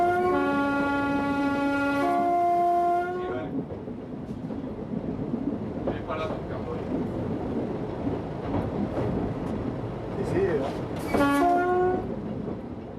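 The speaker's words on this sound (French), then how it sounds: "la descente va débuter par un long appel de l'avertisseur" A train on the Vivarais heritage railway sounds a long, loud, harmonic horn blast as it begins a descent after a station. The wheels rumble steadily, and a second shorter blast follows near the end.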